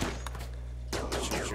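Gunfire in the RimWorld video game during a snowy colony fight, two quick bursts of muffled shots separated by a short pause, fairly quiet.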